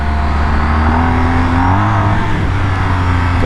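A car engine revs in first gear with a loud, steady mid-pitched drone that rises and falls slightly in pitch, heard close and continuous with no talking.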